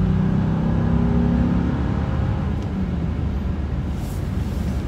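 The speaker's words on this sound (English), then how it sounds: "Don't know if you can pick up on the sound of the engine and the exhaust note in it here." A 2019 Honda Ridgeline's 280-horsepower engine and exhaust accelerate in a steady, loud, continuous drone heard from inside the truck, with no talking over it.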